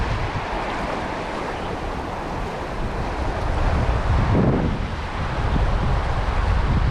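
Gusty wind buffets the microphone beside a river during night salmon fishing, a constant rough roar with stronger surges swelling in the second half, loud and close with no voices.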